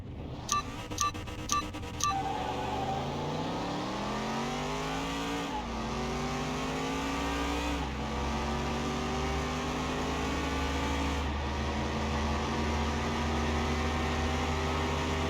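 Race cars in Car Mechanic Simulator 2021 accelerate hard in a race against a 1969 Mustang fastback, engines climbing in pitch through several gear shifts after a few short starting beeps, steady and continuous.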